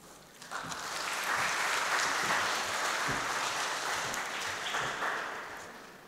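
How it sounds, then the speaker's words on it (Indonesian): Applause from a wedding congregation after a hymn during a church marriage blessing, steady clapping rising quickly and holding at a moderate level for several seconds before easing slightly. "Sekali lagi kasih tepuk tangan untuk Oma"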